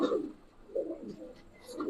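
Giribaz pigeons coo in soft, low, rolling calls, three phrases close by, with faint chirps between them.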